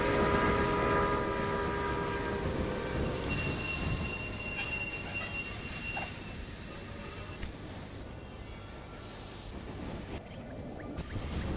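Trains rumble along rails in the Railway Empire video game, with a continuous rolling clatter, drawn-out wheel squeals and faint horn tones, loud and steady throughout.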